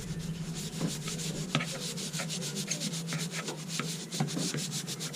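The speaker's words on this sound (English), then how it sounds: "Axe sanding abrasive paste. Abrasive. Rub it all on." Abrasive sanding paste rubbed by hand over a surface, a continuous rasping scrub with repeated strokes and a steady low hum underneath, close and fairly loud.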